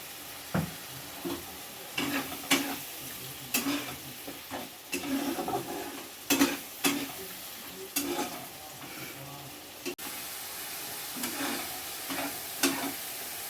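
Ground onion spice masala frying in oil with ground tomato for a Bengali katla fish kalia; a soft background sizzle punctuated by repeated sharp spoon scrapes and clinks against the pan, close and irregular.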